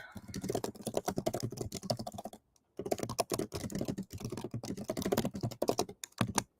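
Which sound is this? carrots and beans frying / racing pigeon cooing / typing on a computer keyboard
typing on a computer keyboard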